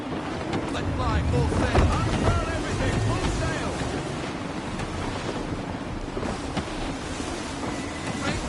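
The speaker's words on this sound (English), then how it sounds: "Gusty winds can be difficult to manage." Gusty wind and rolling waves at sea aboard a sailing ship in Assassin's Creed 3, a continuous rushing roar of surf and wind buffeting under a voice talking.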